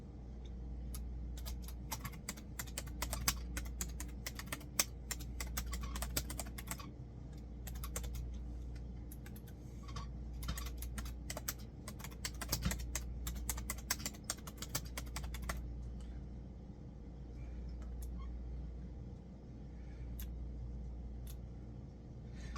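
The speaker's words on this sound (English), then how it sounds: "Sorry, I was just typing." Typing on a computer keyboard, bursts of rapid key clicks in uneven clusters with short pauses, close and fairly quiet over a low steady hum, the clicking stopping near the end.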